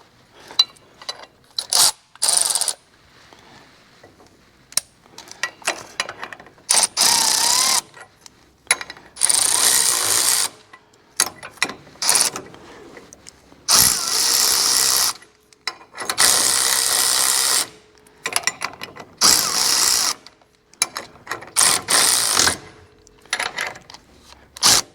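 Ratchet clicking in short bursts while torquing bolts on a Wilwood TX6R big brake front kit on a 2024 Ford F150 4x4 5.0, with repeated quick ratcheting strokes separated by pauses, close and fairly loud.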